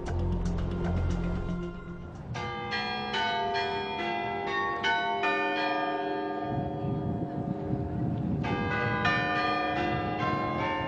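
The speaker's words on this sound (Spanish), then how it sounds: "Las 18 campanas están conectadas por cable al mecanismo del reloj." Eighteen church bells, driven by a clock mechanism, ring out together in a tune, their bright tones overlapping and resonating, with a brief lull in the middle.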